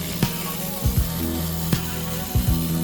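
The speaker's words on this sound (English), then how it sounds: "Then we're going to remove the 2 bolts." A ratchet or power tool working on rear seat bolts inside a Porsche Cayenne, giving short whirring bursts and clicks against a loud steady hum, with no talking.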